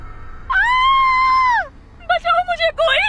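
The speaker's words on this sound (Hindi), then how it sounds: "जैसे ही सुहाना ने दरवाजे पर हाथ रखा, कुछ चमगादड़ों का झुंड फड़फड़ाते हुए बाहर निकला, जिसे देखकर डर के मारे सुहाना की चीख निकल गई" In a Hindi audio drama, a woman lets out a loud, sustained, high-pitched scream of fright, then follows with short shouted cries.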